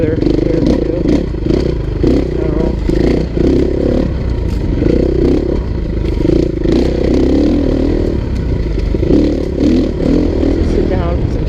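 KTM 350 EXC-F dirt bike from 2016 ridden in third gear at low revs, its engine a loud, continuous pulsing drone with rhythmic surges and mechanical clatter, a rider's voice talking over it at times.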